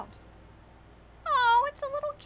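A small cat meows in the video game Chrono Trigger, one clear drawn-out mew and then a couple of shorter ones over a quiet game background hum.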